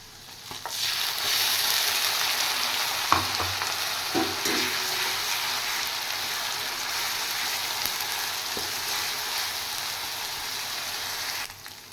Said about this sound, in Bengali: এবার দিয়ে দেব আমি পেস্ট করা পেঁয়াজ